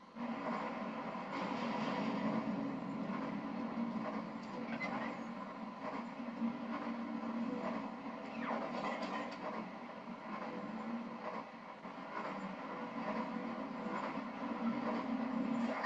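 Trains roll along in the Phineas and Ferb: Across the 2nd Dimension PS3 game, Robot Factory level, a continuous rumbling clatter of rail cars with no voices.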